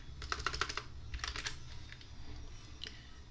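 Quick clusters of keystrokes on a computer keyboard, close and crisp, with short pauses between bursts and no talking.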